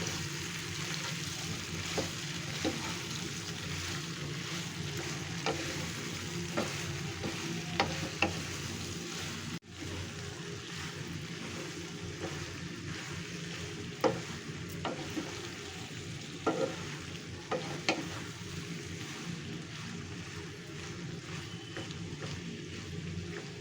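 Bottle gourd and shrimp fry in a pan, a continuous soft sizzle under occasional spatula scrapes and knocks, close and fairly quiet, with no one speaking.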